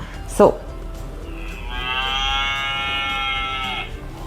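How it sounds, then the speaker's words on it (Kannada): A single long cow moo plays clearly from a baby's sound book after a brief knock, steady and close, with little else around it. "ಸೊ ಹಸು ಹೇಗೆ ಕೂಗುತ್ತೆ"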